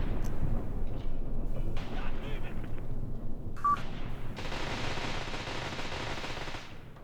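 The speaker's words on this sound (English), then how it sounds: "Submachine gun is answering." Graviteam Tactics submachine gun fire rattles in bursts across a rumbling battlefield, building into a sustained, dense stretch of rapid shots in the second half.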